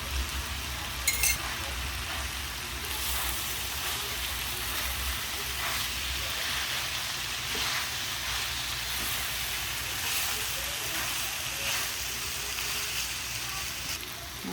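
Scrambled egg and vegetables frying in a pan for Maggi noodles, a continuous close sizzle with occasional scraping and stirring sounds through the whole stretch, no talking.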